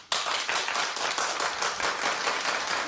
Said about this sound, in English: Clap if you think that she needs all this security to take her into the school and pick her up.